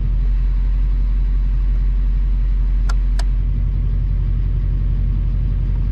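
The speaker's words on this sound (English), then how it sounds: "My third changes to the rumble idle." A Duramax diesel truck idles with a steady, low rumbling tone and an even throb, close and loud throughout, broken by two brief clicks near the middle.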